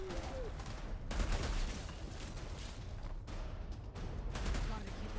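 Gunfire in the video game Outriders, with an enemy sniper firing from up a hill amid dense, continuous combat noise of bursts and shots, loud and close, with no voices over it.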